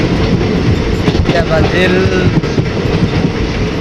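Inside a night train in Assam, a loud, continuous rumble of rolling wheels and carriage noise fills the whole stretch, with a person speaking briefly over it.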